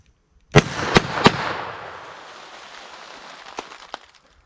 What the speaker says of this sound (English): So full power 357 mag.